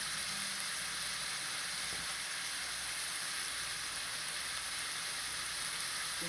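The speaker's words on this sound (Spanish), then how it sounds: "Mientras tanto le vamos a echar sal para que la cebolla se vaya pochando" Onion sizzles in a pan with salt, giving a steady close hiss of frying that runs unbroken with a faint low background hum.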